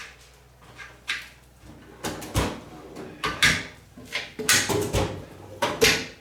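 A US General five-drawer steel tool cart has its drawers pulled open and pushed shut, giving a series of close, sharp sliding clunks and rattles spaced roughly every half second to second.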